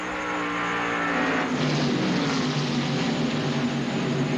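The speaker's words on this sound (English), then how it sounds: "there goes Michael Waltrip by Hillen. Dick Trickle in the 15 car. Here comes Earnhardt" NASCAR stock cars race past at Darlington during the 1995 Southern 500, a loud sustained engine roar that swells with a passing car about midway and holds at a steady, dense level.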